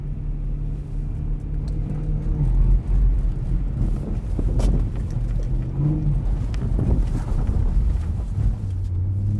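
A BMW M3 E92 pulls through snow in third gear on Vredestein Wintrac Pro winter tires, with a steady low engine drone, wind buffeting and rumble running unbroken throughout and no talk.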